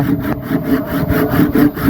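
A saw rasps through wood in fast, regular back-and-forth strokes, loud and close, with no voices.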